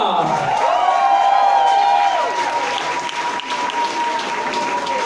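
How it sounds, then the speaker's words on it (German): Applause and cheering from a concert crowd at a band's homecoming show, loud and sustained under a ringing sustained tone, with a voice speaking over the noise. "Ein großen Applaus für Tessie und Julia an der Bar."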